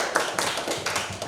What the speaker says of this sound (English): give applause everyone.